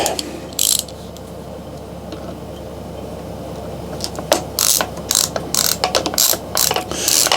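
A ratchet tightens the bolt of a Specialized Turbo Levo electric mountain bike seatpost, close and clear: a brief burst of clicks, a pause, then a series of short rapid ratcheting strokes in an uneven rhythm.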